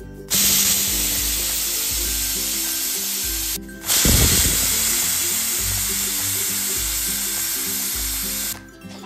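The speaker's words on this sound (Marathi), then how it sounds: "साधारणतः 2 शिट्ट्या आपण कुकरला करून घेऊया" A pressure cooker cooking rice and field beans vents loud, hissing steam with a shrill, steady whistle, in two long bursts separated by a brief pause.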